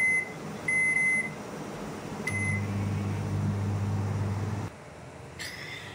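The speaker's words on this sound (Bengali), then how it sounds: "দিয়ে আমি মাইক্রো কনভেকশনে দিচ্ছি 110 ডিগ্রি সেন্টিগ্রেডে 15 মিনিট" A convection microwave oven set to 110 degrees gives a few sharp electronic beeps, then runs with a steady low hum that stops abruptly near the end, heard close with no speech.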